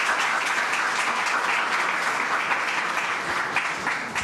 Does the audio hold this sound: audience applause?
yes